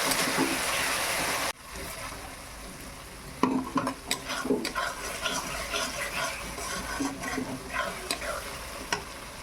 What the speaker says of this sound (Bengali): আদা রসুনটা আমি ভালো করে ভেজে নিই।